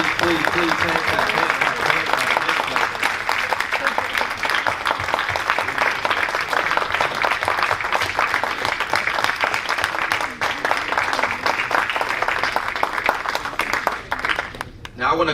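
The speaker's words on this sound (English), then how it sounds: "Please, hand clap." Audience hand clapping continues steadily and fairly loudly, with voices talking over the applause throughout.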